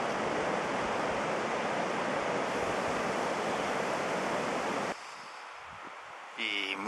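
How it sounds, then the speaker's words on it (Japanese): Steady broadband rush of the Rio Baker river flowing beside a road in Patagonia, loud and continuous for about five seconds before dropping to a quieter, more distant wash with faint sounds at the end. "いやー素敵な川だ。"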